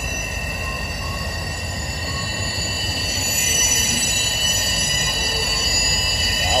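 Freight train cars roll slowly through East Deerfield Yard, their wheels giving off a high, sustained whining squeal over a low rumble that grows slightly louder midway, with no one talking.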